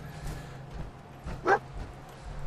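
Dogmeat, the dog companion in a Fallout video game, lets out a single short bark midway, fairly faint over a steady low in-game background hum.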